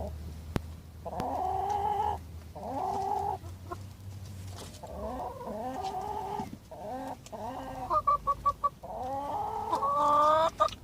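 Chickens cluck repeatedly in an allotment run, their calls close and fairly loud, arriving in bursts with short pauses and turning more excited and overlapping toward the end.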